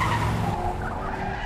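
Car tires skid and squeal loudly as a stolen police car pulls away under a rumbling engine, a short, steady screech without speech.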